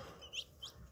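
Green junglefowl chicks give two brief, high peeps, faint and close, about a third of a second apart, against quiet background noise.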